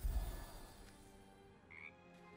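A frog croaks in the video game Baldur's Gate 3, a low throaty croak at the start followed by fainter ambient game sounds and a brief high chirp.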